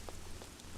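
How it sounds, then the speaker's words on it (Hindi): Steady rain falling and pattering on surfaces, a dense continuous wash with a few brighter drop hits, heard alone without voices. "सुबह सुबह बारिश कहाँ से आ गई,"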